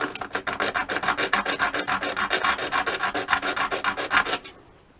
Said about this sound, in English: I want to sand off all those sharp corners so they don't hang up in someone's hair.